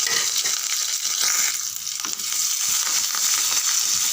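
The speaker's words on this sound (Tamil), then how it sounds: "ஒரு 2 நிமிஷம் நல்லா வதக்கி விடுங்க" Onion and curry leaves sautéing in hot oil for a sambar tempering, a steady close hiss and crackle with faint stirring, no voices.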